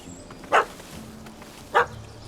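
A dog barks twice in The Witcher 3: Hearts of Stone, two short, separate yaps over a low ambient game background with no talk.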